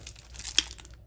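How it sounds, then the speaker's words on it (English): Festive glimmer paper, a glittery craft sheet, crinkles briefly as it is handled, with a sharp rustling crackle close up for about a second. "what is this called? Festive glimmer paper."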